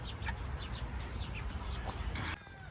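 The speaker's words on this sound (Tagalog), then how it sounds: "grabe yung sigaw ng mga manok natin eh" Chickens squawk and cluck in a noisy, overlapping flurry, fairly close and loud throughout, with no voices.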